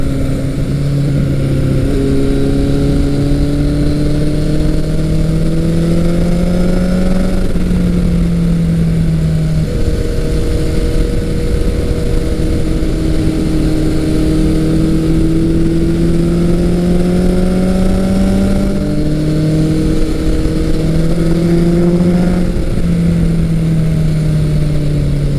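A 1983 Kawasaki GPZ 1100 motorcycle engine runs steadily and loudly up close, its tone rising and falling through several gentle revs over a constant rumble, with no talk.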